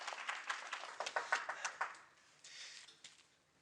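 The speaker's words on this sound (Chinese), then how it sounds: "小朋友，我们鼓掌，" A small group of children clapping in encouragement, a quick run of light, uneven claps that fade into a softer patter, fairly faint and without voices.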